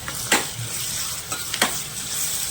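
Garlic and chillies sizzle and fry in a pan, with a steady crackling hiss and a few sharp scraping stirs of a spoon on top.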